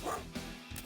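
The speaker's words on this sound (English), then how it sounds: "That's because there is a dog." A dog gives a few short, muffled barks or yips in quick succession, fairly faint and mixed with low background noise.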